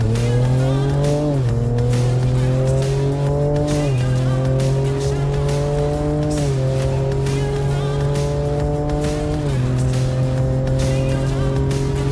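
A 2022 Ford Ranger Raptor with a 3.0-litre twin-turbo V6 accelerates hard on a road in Baja mode, its loud engine roar rising through the revs, dipping briefly at each of several gear changes, then climbing again.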